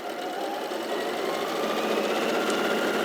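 A sewing machine stitches a fabric seam with a steady, continuous mechanical whir that holds even and close throughout, with no talking.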